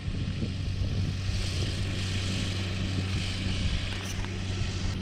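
A tractor spreading fertiliser over crops drones with a steady low engine rumble at moderate distance, joined by a broad windy hiss and no voices.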